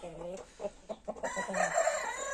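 A young rooster crowing, a strained, immature crow rising clearly over quiet talk among farm fowl, loud and close near the end.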